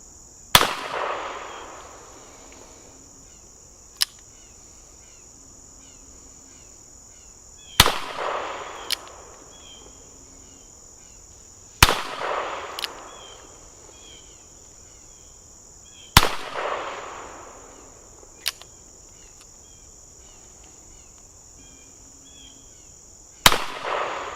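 Smith & Wesson 65-3 revolver firing .38 Special 158-grain lead round nose rounds, about six sharp shots spaced several seconds apart, each a loud crack with a brief ringing tail over a faint steady background hiss.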